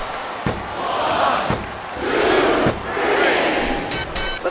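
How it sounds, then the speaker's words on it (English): A roaring arena crowd cheers in waves at a WrestleMania 22 women's championship match in the Smackdown vs RAW 2007 video game, the sustained noise swelling and easing across several seconds with a few hard thuds. "Listen to the crowd, JR."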